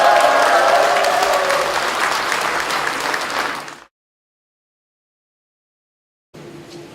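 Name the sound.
applause and cheering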